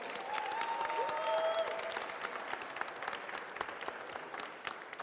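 An audience at a French debate event gives a steady round of applause, many hands clapping at a distance in a continuous wash that slowly tapers toward the end, with faint voices in the room.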